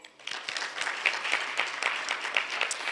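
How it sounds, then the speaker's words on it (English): An audience applauds seated scholars at an excellence awards ceremony, with fairly close individual claps, some sharp and distinct, rising and continuing steadily over a few seconds. "Let's applaud them now."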